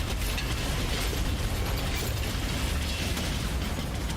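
Cannon shots and battle noise from the Total War: Warhammer 3 game, with ogre armies fighting, form a dense, loud, continuous wash of booms and clatter without any talk.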